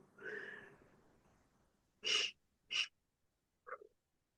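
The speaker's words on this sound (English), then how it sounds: "do a double inhale and an exhale. Make sure your exhale is longer" A slow breathing exercise: a long soft exhale fades out, followed by two sharp, close inhales and a short final breath, each separated by silence.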